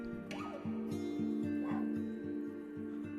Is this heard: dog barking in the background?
yes